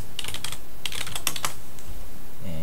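Quick bursts of keystrokes clatter on a computer keyboard while a password is entered, close and crisp in several short rapid runs, followed by a brief pause and a faint tone at the end.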